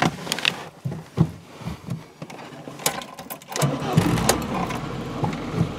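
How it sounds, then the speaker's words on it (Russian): A VAZ 21083 car engine cranks with a few rough, uneven turns, then catches quickly and settles into a steady running roar, close and loud. "Ну и заводим двигатель."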